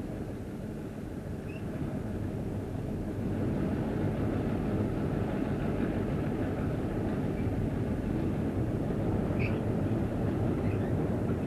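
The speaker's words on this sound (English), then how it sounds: "The train is leaving McNeil" Austin & Northwestern train pulling away from McNeil around 1991, a steady low diesel rumble and rolling rail noise that holds constant throughout, moderately distant, with no voices.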